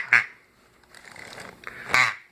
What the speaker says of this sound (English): And we've got a duck call.